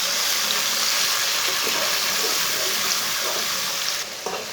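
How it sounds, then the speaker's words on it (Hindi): Garlic, tomato and green chillies fry in a pan with a steady loud sizzle and hiss, softening briefly near the end as the food shifts. "2-3 मिनट के लिए भून लेंगे।"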